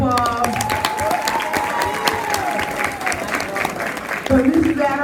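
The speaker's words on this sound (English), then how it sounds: "So let's give our teachers one more round of applause." A round of applause for teachers at a middle school event, steady crowd clapping with some cheering, while voices talk over it throughout.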